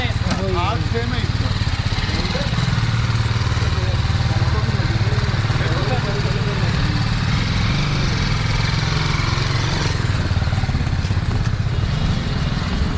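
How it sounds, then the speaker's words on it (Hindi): A Bajaj Pulsar F250 motorcycle engine runs steadily at idle with a low, even thrum and a light mechanical clatter, close by and constant. Faint voices sit underneath. "बाइक का साउंड सुन के मुझे अपनी ऑप्टिमस प्राइम की याद आ गई।"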